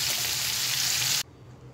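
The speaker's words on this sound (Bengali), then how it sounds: "বেশি ভাজবো না, চিংড়ি মাছ আবার বেশি ভাজলে শক্ত হয়ে যায়।" Prawns fry in hot oil with a loud, dense, close sizzle that runs steadily for over a second and then stops abruptly, leaving only faint background noise.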